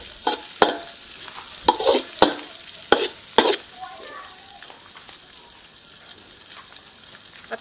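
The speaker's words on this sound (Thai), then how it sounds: "แล้วก็ผัดพริกกระเทียมให้หอมนะคะ" Chili and garlic stir-fried in a pan while cooking fern shoots in oyster sauce, a run of loud spatula scrapes and sizzling bursts in the first half, then a softer steady sizzle.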